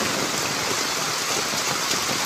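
Heavy monsoon rain pours down in a dense, steady hiss with no pauses, loud and close throughout.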